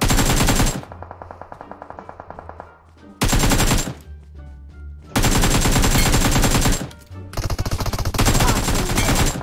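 Rapid automatic gunfire in a video game, loud close bursts separated by short pauses and softer gaps, repeating several times.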